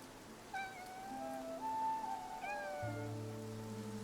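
A cat in the video game Infinity Nikki gives two drawn-out meows a couple of seconds apart, fairly close and clear over a soft ambient game soundscape with light rain, no talking.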